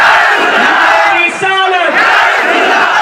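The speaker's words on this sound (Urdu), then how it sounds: "تمام لوگ مل کر نعرہ لگائیں نعرے تکبیر" Loud crowd at an Eid Milad-un-Nabi procession in Bhiwandi shouting the Nara-e-Takbir slogan together, a dense roaring chant of many voices swelling close and continuous.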